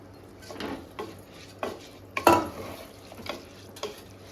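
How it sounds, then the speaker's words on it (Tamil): Rice for mushroom biryani being stir-fried in a pan: a quiet background sizzle under a series of spatula scrapes and clinks against the pan, roughly one every half second, with one sharper knock near the middle. "நம்ம ரைஸை இதில் சேர்த்து நல்லா வதக்கிக்கலாம்"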